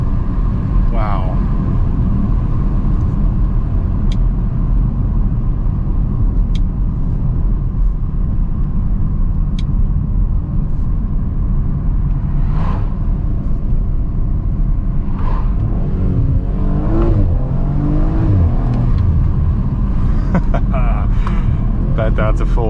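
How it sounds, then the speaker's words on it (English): A 2020 Audi RS4 Avant's engine rumbles steadily while cruising on the road, a low constant drone beneath someone talking throughout. "it's such a delight to drive this RS4"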